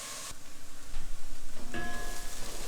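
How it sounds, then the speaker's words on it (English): Onions sizzle steadily in a hot pan, a soft continuous frying hiss with faint crackles, heard alone and close. "And now that it's sizzling, I can turn the heat down a little below medium."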